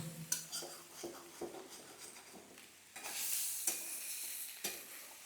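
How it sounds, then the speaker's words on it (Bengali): Cauliflower and mixed vegetables frying in a kadai are stirred in quick repeated scrapes, with a steady sizzle that swells louder in the second half. "সবজিগুলো একটু ঘন ঘন নাড়বে তাহলে দেখবে কড়াইয়ে"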